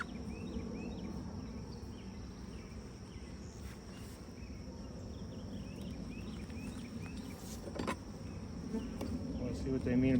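Honeybees buzz steadily around an opened hive during an inspection, a dense close hum with individual bees zipping past, continuous for the whole stretch and swelling slightly toward the end.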